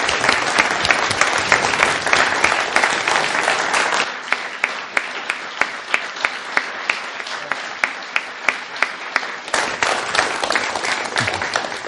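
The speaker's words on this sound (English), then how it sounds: "everybody else give them a tremendous round of applause" A symposium audience gives students a tremendous round of applause, loud, dense clapping that runs continuously for about twelve seconds and thins slightly in the middle before swelling again.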